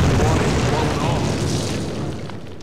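Explosives detonate during a Call of Duty training mission, a loud broadband boom with rumbling debris that slowly decays over a couple of seconds, sustained and close.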